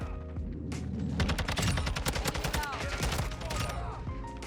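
Gameplay TAQ-56 assault rifle from Modern Warfare 2 fires in rapid, dense bursts of sharp close shots, with short gaps between volleys and a faint voice underneath.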